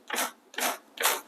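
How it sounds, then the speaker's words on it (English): Three quick, raspy scraping strokes of a hand brush dragged against the wire bristles of an Ashford e Carder drum carder, evenly paced and close, with short pauses between. "So I'm going to scrape against the bristles."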